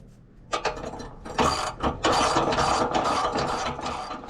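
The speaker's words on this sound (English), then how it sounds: "we're just gonna tighten up the nuts" A ratchet tightens nuts on a small rail slid in under a bumper: loud, close, rapid ratcheting clicks and mechanical rasping in several bursts, with no talking.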